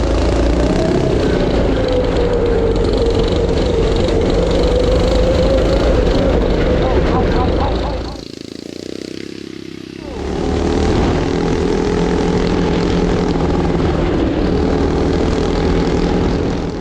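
A turbocharged go kart built from a coffin accelerates hard, its engine a loud, sustained droning roar that drops away briefly midway and then returns at full strength.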